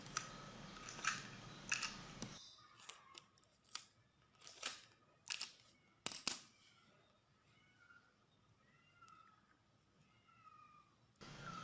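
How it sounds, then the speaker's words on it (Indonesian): Scissors snip through adhesive tape in a few sharp, close cuts, with a brief rustle of tape and then quiet. "kita tinggal tarik selotipnya, kemudian kita potong secukupnya"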